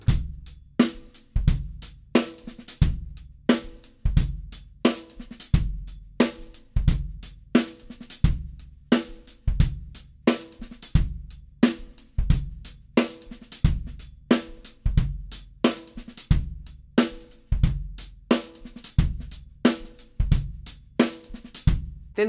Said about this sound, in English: The first one is to play that triplet lick starting on beat 4, but just keeping the left hand on the snare drum.